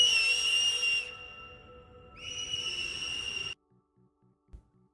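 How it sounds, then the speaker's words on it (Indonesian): Two sharp, shrill blasts of an emergency whistle sound in an anime scene, loud and close with a short gap between them, followed by near silence and a faint knock. "meniup peluit sebagai tanda darurat"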